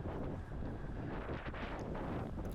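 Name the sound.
strong gusting wind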